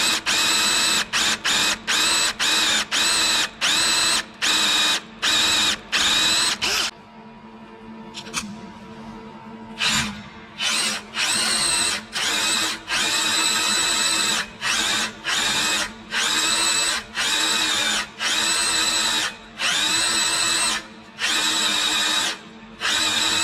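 A handheld power drill bores into a workpiece in repeated short trigger bursts, each a loud whirring pulse separated by brief gaps, with a steadier stretch in the middle before the rapid on-off rhythm resumes.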